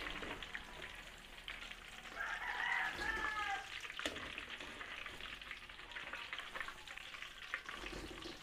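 Fish fillets sizzle steadily in hot oil as the first batch is lifted out, a dense crackling frying sound with occasional clinks of a utensil; no talking.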